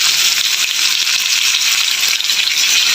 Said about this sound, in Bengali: তারপর আমরা এখন এই মাছটা ছেড়ে দিই